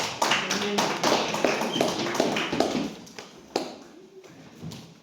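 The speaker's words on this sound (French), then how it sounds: "Sur vos acclamations, s'il vous plaît." Church congregation clapping, scattered and uneven hand claps with thuddy taps, loud at first and thinning out toward the end, a few isolated claps near the close.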